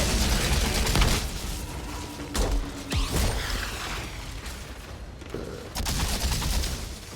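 Bursts of gunfire and booming blasts from weapons in the video game Outriders during a co-op fight, loud and dense, with rapid shots layered over explosive rumbles and game effects.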